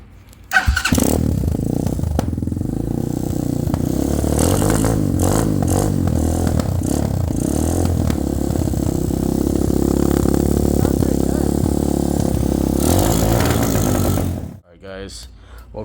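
A 2017 Hawk 250 motorcycle fitted with an aftermarket exhaust starts and runs loudly for about fourteen seconds, its steady engine clatter and revving close by, then cuts off abruptly.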